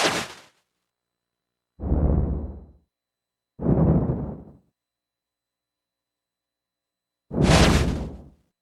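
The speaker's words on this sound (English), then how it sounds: "Here's an example of the fireball spell with different layers for casting" Four separate whooshing bursts of a synthesized fireball spell-casting effect made on a modular synth, each swelling and fading, with long silent gaps between them and the last one brightest.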